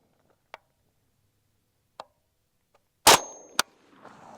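A 5.7x28 rifle fires a 27 grain red box hollow point round at level 3A soft body armor, one sharp, loud, close crack with a quick second impact and a short echo, after a few faint ticks.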